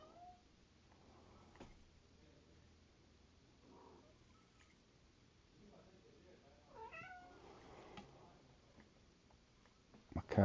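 A house cat meows several times in the background, with drawn-out, rising and falling calls spread across the stretch, moderately faint against low room noise, and a sharp louder knock at the very end.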